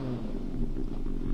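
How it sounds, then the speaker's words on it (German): A motor idles with a low, steady rumble in the adventure game Edna bricht aus, close and continuous through the short stretch. "Was ist das für ein Geräusch? Ein Motor."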